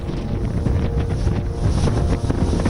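Strong storm wind gusting during a dust storm sweeping the Delhi NCR region, a loud, steady roar of buffeting air across the microphone throughout, with no voices.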